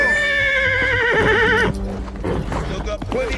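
Spartan, a spirited former jumping horse, gives a loud, close whinny that rises and wavers for over a second, then hooves clop and a snort follows with some movement noise.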